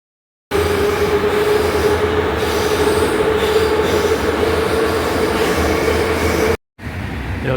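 A Baku metro train running through a tunnel, a loud steady roar with a sustained wheel squeal throughout, ending briefly before the noise resumes.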